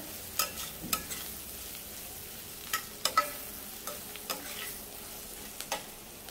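Onion mixture with coriander powder and garam masala being stirred in hot oil, a soft sizzle under repeated sharp spoon scrapes and taps against the pan, close and alone with no voices.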